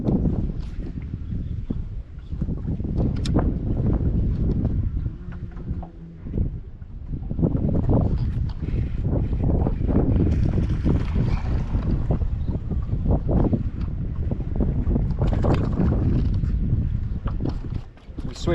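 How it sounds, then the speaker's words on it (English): Strong wind buffets the microphone almost continuously while fishing from a boat on Lake Travis, with a brief lull near the middle. "It's a little too windy."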